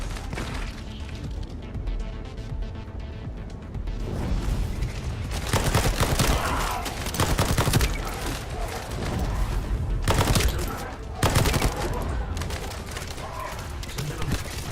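Gunfire in the PC video game The First Descendant, with bursts of rapid shots and booming impacts that grow denser partway through, loud and close.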